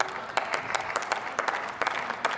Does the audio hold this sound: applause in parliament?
yes